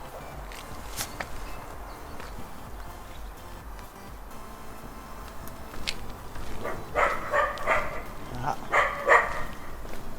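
A dog barks a few times in short clustered bursts toward the end, at moderate distance over an outdoor background with footsteps and a brief vocal exclamation.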